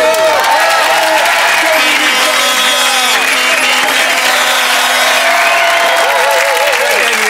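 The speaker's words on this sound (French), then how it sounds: "On l'applaudit." A studio audience claps and cheers loud and close for the winner of a French television game show, with music and a host's voice running over the continuous, dense applause.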